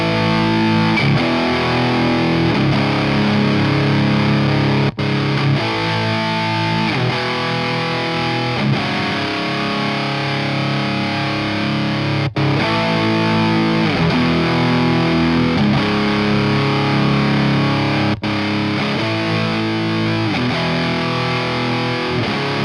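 An electric guitar runs through Orange Gain Baby 100 and Rockerverb 50 MkIII amplifiers with the gain maxed, giving heavily distorted, loud, sustained chords and riffs that play continuously with a few sharp breaks and no voices.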